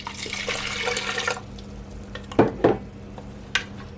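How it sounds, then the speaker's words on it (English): Cold water pours steadily into a blender for over a second, then trails off into a quiet room broken by a few sharp knocks and clinks. "add at least over 1 cup of water, cold water"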